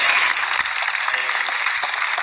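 A live audience applauds at an Islamic Muharram stage event in Indonesia, a dense, steady wash of clapping filling the short moment with no voices over it.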